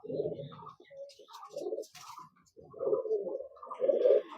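An imported Teddy pigeon coos close by in a run of soft, throaty bursts with brief gaps between them, the last few fuller and louder.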